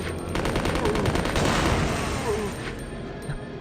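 Rapid gunfire from a PS2 Resident Evil Code Veronica game fight, a sustained burst of dense, loud shots that thins out toward the end, with a faint voice underneath.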